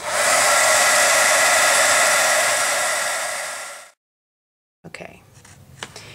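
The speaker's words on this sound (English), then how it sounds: "as you move your heat tool, it will actually move around a little bit on there" A heat tool melting embossing powder blows a loud, steady, close whoosh for about four seconds, then cuts off to silence before faint handling taps.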